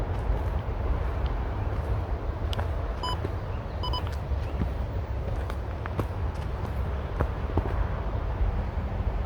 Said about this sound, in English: you can hear some of the traffic in the background